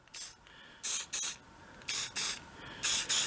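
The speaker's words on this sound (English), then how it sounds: "Let's go mist it with like a little bit of paint." Short aerosol bursts of paint mist a part on a Bobcat skid steer, about seven quick hissing sprays in an uneven rhythm, loud and close, with quiet gaps between them.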